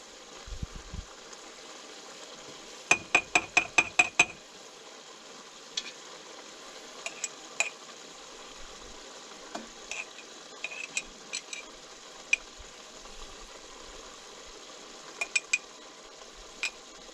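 A spoon scrapes and taps against glass canning jars as deer sausage is pressed down inside, a quick cluster of sharp metallic-glass clicks followed by scattered faint taps in a quiet room.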